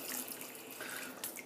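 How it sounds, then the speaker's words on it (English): A shaving brush is rinsed under a running tap, giving a steady close rush of water with splashy spatter and no talk. "just gonna rinse the brush off here so you can have another look"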